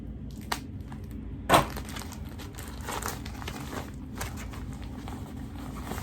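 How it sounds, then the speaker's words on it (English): Scissors cut open a tape-wrapped package, with crinkling plastic and rustling wrap throughout and one sharp snip or crack near the start. The handling is close, quiet and steady, and nobody speaks. "Let me just cut this open and see what this is."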